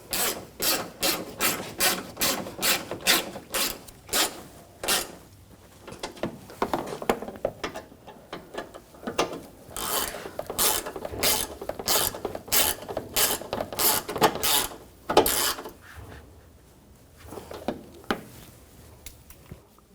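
Bolts being tightened with a ratchet wrench on the headlight mounts of a 2000-2006 BMW X5: quick, rhythmic clicking bursts in repeated runs, separated by short pauses, close to the listener.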